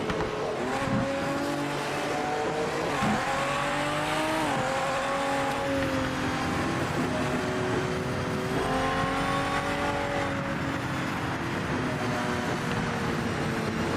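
A race car engine in the Project Motor Racing video game, loud and sustained, revving up through the gears with repeated rising pitch sweeps and brief tire squeal, heard alone without talk.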